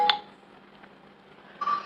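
A phone call in a support setting being picked up: a short electronic tone burst at the start, a quiet gap, then another brief beep as the line connects, heard alone with no talking.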